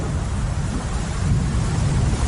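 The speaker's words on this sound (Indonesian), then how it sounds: "Hujan pun semakin deras saja." Heavy rain pours at night on a forest road in Garut, a dense, steady roar of falling water with low wind rumble and no other sounds.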